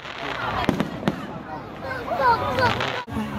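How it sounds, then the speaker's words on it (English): At the Yanshui Beehive Firework Festival, fireworks crack and pop in scattered bursts behind people talking, under a steady crowd rumble. "And all the while you see and hear fireworks in the background."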